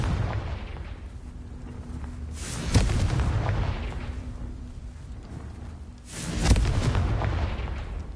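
Two booming blasts from the Confringo spell in Hogwarts Legacy, each a sharp hit followed by a rolling low rumble that decays over a couple of seconds, several seconds apart.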